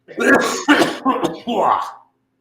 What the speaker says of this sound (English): That's a healthy cough right there.